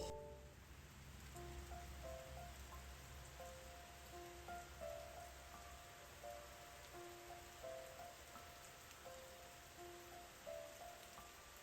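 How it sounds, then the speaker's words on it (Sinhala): Heavy rain pours down during a village morning, a dense steady hiss of drops on surfaces lasting throughout, with faint tonal whistles drifting in the background. "ඔන්න ඉතින් වැඩ ටික ඉවරනකොටම හයියෙන් වැස්සක් වහින්න ගත්තා"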